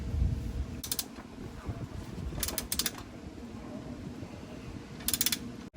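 A wrench tightens the transfer case plug on a Ford F150 in three short bursts of rapid, close ratcheting clicks. Quieter rustling and handling noise fills the gaps between them.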